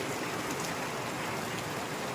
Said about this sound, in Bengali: বাজারে এসছি দেখো কি পরিমাণে বৃষ্টি হচ্ছে